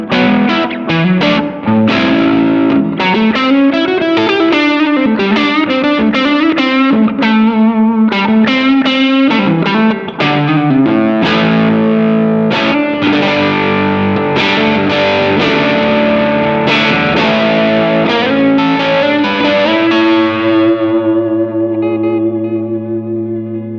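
Electric guitar through a Nordvang Skyline overdrive pedal with a Tube Screamer-like tone, loud driven riffs and single-note runs that end on a sustained, fading chord, no talking.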